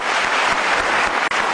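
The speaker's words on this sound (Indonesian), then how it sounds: "Kasih tepuk tangan dong untuk Mas Ade." Applause for a guest named Mas Ade fills a television talk-show studio: a dense, steady wash of many hands clapping at once, loud and continuous, with a brief dip near the end.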